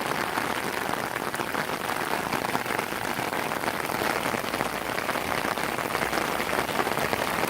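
Heavy storm rain drums on an umbrella in a dense, constant patter of close drops, loud and unbroken throughout.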